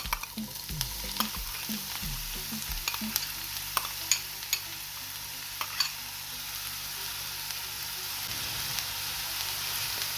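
Steady sizzling of onion frying in hot oil in a pan, with occasional clinks and scraping of a utensil in the pan throughout.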